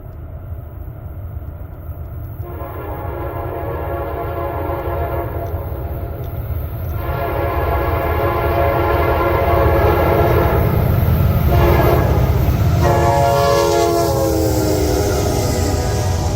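CSX locomotive 4568, painted in Operation Lifesaver colors, leads westbound train I-003 and sounds a loud, sustained multi-tone horn in several long blasts over the steady rumble of the train rolling past.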